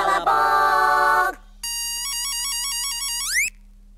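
A telephone rings in an electronic ringtone style, with a tonal burst, a pause and then a warbling, stepped melody, loud and clear with no voices.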